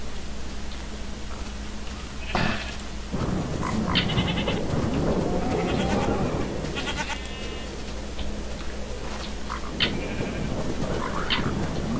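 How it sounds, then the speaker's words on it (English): Goat bleating in a farm setting while being milked, several distinct wavering bleats scattered across the clip, close and fairly loud over steady background noise, with no speech. "The goat don't like being milked."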